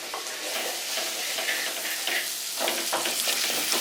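Onions and salt sautéing in oil for a Kerala-style chicken roast, stirred without pause: a steady close sizzle with scraping spoon strokes running through it, no voices.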